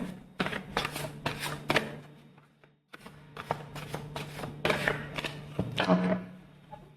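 Tarot cards shuffled by hand in repeated quick riffling bursts, close and crisp, pausing briefly midway before resuming, with a faint voice in the background.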